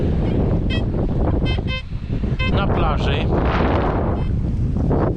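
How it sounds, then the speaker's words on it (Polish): Heavy wind on a beach buffets the microphone in loud, continuous roaring gusts, with surf in the background and someone speaking briefly underneath. "Wieje straszny wiatr."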